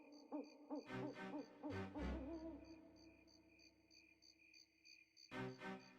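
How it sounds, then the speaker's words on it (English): Cricket chirps from the game Donkey Kong 64, a steady high pulsing trill running under deeper hooting, owl-like tones and soft spooky music, fairly faint overall. "These are good cricket sounds."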